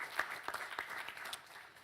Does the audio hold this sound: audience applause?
yes